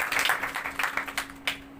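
Brief scattered clapping from an audience at a religious teaching session on fasting, a few loose claps, fairly faint, with a steady low hum underneath.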